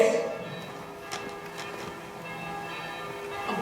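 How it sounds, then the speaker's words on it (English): Merry bells ringing during a stage play of A Christmas Carol, bright bell tones sounding close at the start and again at the end, with a faint ticking or clopping between them. "Merry bells."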